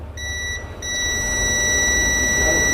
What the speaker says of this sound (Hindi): ये मीटर की बीप है